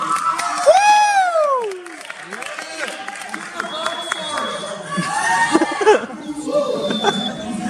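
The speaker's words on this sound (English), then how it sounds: "Everyone, give a real round of applause to Mr. Riley Corrigan." A live audience at a local variety show claps and cheers for a performer taking the stage, a lively crowd roar mixed with whoops, chatter and a few high shouts, loudest near the start then settling into murmuring.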